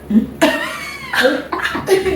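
Several sharp coughs in quick succession, loud and close, broken up by short gaps with a bit of breathy vocal sound between them.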